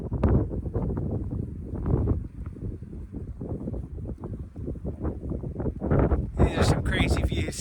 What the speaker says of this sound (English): but gosh, it is windy